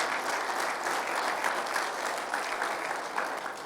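A church congregation claps together in steady, even applause, a continuous moderately distant patter of many hands with no speech over it.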